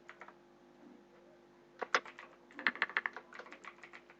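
Quiet typing on a computer keyboard, a few isolated key clicks followed by a quicker burst of keystrokes, close and soft against a faint steady hum.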